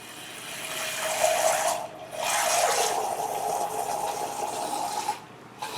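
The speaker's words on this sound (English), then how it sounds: "you want to fill your beaker at about 350 or 400 milliliters with tap water is fine" Tap water runs into a laboratory beaker to fill it to about 350 to 400 milliliters, a steady rushing pour that briefly pauses and resumes, close and fairly loud, with no talking.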